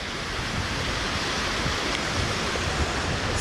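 Mountain stream beside the hiking trail to Nosal near Zakopane, a steady, close, full rush of flowing water filling the whole clip with no voices.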